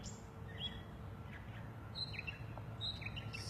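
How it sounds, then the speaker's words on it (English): Birds singing outdoors on a bright morning, several high chirps and whistled phrases scattered over a steady, noisy background, moderately distant. "I don't know if you can hear these birds. They're so loud."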